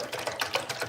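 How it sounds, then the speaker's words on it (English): Fresh juice pours into a wine glass, a short burst of splashing and trickling liquid with uneven gurgling pulses, close and fairly loud, with no voices. "I want everybody to see this amazing pour. I love the pour in my juice."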